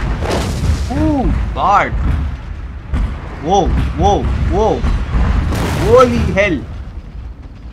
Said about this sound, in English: Incoming. Naval bombardment.